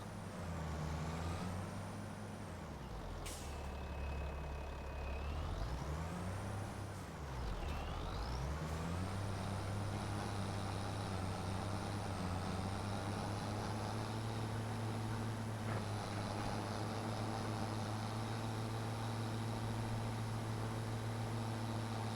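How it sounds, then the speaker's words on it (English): Farm vehicle in Farming Simulator 25 driven across fields, a steady loud engine drone with rising and falling revs, continuous throughout with no talk. "I'm just driving through the fields."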